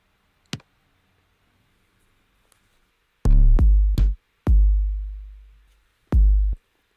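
A sharp kick drum click-layer sample plays in Ableton, a faint tick followed by several punchy hits with short, decaying booms, separated by silence.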